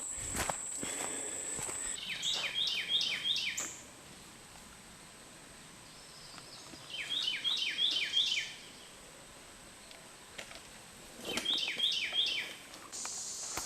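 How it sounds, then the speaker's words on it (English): Bursts of rapid, high bird chirps come in three clusters over a quiet forest hush at Providence Canyon State Park, with soft rustling footsteps and faint insect buzz between them. "and then a lot of birds chirping"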